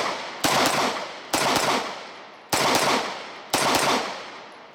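Four loud, sharp shots from a Smith & Wesson 6904 pistol, evenly spaced about a second apart, each with a quick decaying echo tail, no talking.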